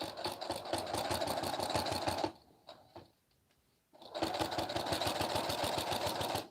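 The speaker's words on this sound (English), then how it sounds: "So I forward stitch and then I back stitch" A sewing machine running forward and back stitches on a romper's liner and body piece, a rapid mechanical clatter in two bursts separated by a short quiet pause.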